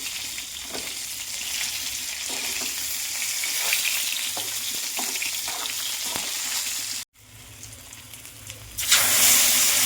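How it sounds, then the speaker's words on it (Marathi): Eggplant pieces sizzle and crackle in hot oil with spluttered cumin over a full gas flame, a steady loud fry broken by scraping stirs, with a sudden brief dropout and a hissing surge near the end. "आता यात आपण वांगी टाकूयात आणि फुल गॅसवर 2 मिनिट चांगले परतून घेऊयात."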